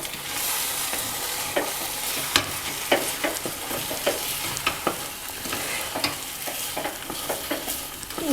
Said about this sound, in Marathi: आणि ढवळायचं.